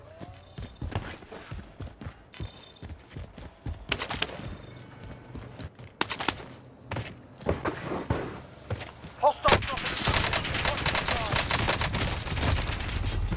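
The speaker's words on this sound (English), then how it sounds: "lots of shooting and shots in prison" Gunfire in the Call of Duty Warzone video game inside a prison area: bursts of rapid automatic shots and single cracks, close and sharp, build into heavy sustained firing near the end, with someone talking between shots.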